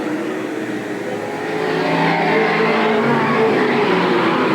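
Race cars at Eugene Speedway run bumper to bumper into a turn, a loud sustained roar of engines that swells midway as the pack passes close.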